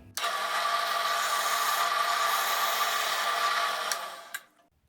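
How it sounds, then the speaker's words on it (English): A power drill whirs steadily at full speed for about four seconds, grinding through wood, then winds down and stops. "Here goes our test drill."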